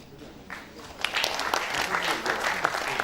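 An audience applauds after an annual management lecture, the clapping starting faint and swelling into a dense, steady roar of many hands, with voices mixed in.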